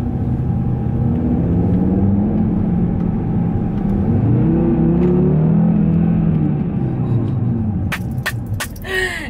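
400 PS Audi RS3 accelerating, heard from inside the cabin as a deep, loud engine rumble with a few rising pitch sweeps, followed by brief clicks and knocks at the end.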